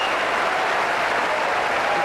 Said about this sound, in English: Boos from the crowd as they anticipate the ending of play for today.